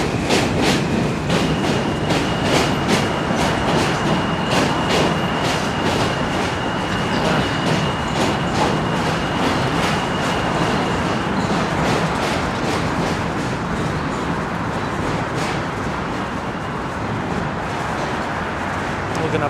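A New York City subway train rolls past near the Williamsburg Bridge, its wheels beating a loud, regular clickety-clack over a constant rumbling roar, with a thin wheel squeal in the first half.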